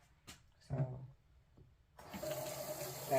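Hot water running from a sink tap, starting abruptly after a few faint knocks and flowing as a steady close hiss to the end.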